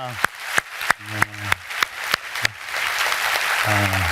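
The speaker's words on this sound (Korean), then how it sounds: "우리 하나님께 더 큰 영광의 박수 올리겠습니다." A Korean church congregation claps during a Sunday sermon: first several sharp, spaced claps with a voice sounding between them, then the clapping thickens into continuous, sustained applause.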